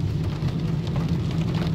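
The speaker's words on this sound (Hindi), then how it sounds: "सऊदी अरब आज दी बारिश है" Rain falls steadily in Saudi Arabia, a soft continuous low-pitched wash with faint patter, moderately quiet and even throughout.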